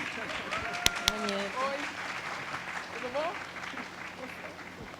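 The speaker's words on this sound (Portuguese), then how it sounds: "Palmas para minha mãe e para minha avó" Audience applause for someone's mother and grandmother at a public talk, a diffuse spread of clapping with a couple of sharp claps standing out, moderately faint, with voices and a few whistle-like tones over it.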